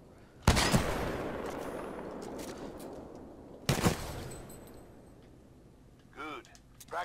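Burst-fire sniper rifle in Titanfall 2, two sharp loud bursts a few seconds apart, each a tight cluster of cracks ringing out into a long decaying echo, followed by faint mechanical clinks, with a voice talking in between.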